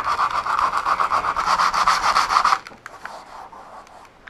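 Close, rhythmic scratchy rasping of hand sanding with coarse sandpaper on a Subaru WRX rear wing area, about a dozen quick back-and-forth strokes, then it stops with only a few light scuffs after.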